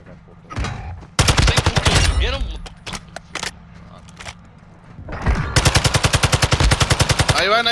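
Automatic gunfire in a shooter video game, loud rapid bursts separated by short gaps, with a long sustained rattling burst near the end, and a voice talking in between.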